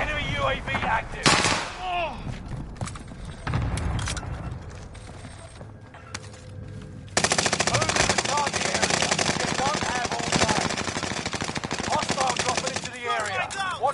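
Gunfire in the video game Call of Duty Warzone: rapid bursts of automatic fire crackle loudly, then a long sustained machine-gun stream dominates the second half, with speech.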